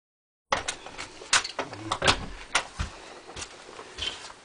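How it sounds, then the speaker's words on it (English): A back door of an ice fishing shack is opened, giving a series of close bumps, clunks and a scraping slide over a few seconds. "I'll go out the back door here just for ease."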